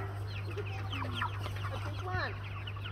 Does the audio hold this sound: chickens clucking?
yes